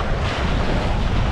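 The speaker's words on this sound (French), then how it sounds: "Le fleuve semble agité. C'est juste le vent, le courant du vent et le courant sortant du fleuve." Choppy river water churned up by wind and an outgoing current, heard as a steady, dense wash of wave noise mixed with heavy wind buffeting the microphone, loud and unbroken.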